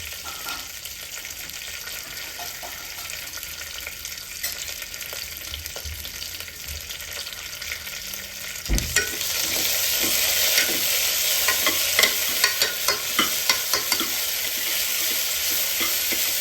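Onions for a black chickpea kurma sauté and get stirred in a pan, with a steady sizzle that swells louder partway through, and spatula scrapes and clicks recurring over the frying hiss.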